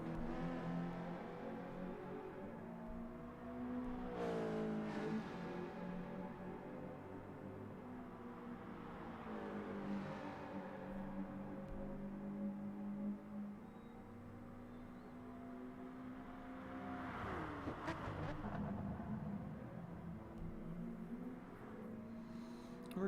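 Race cars lapping the Alsace Village circuit in Gran Turismo, a faint steady engine drone with rising and falling pitch sweeps as cars accelerate and shift, fairly distant and quiet.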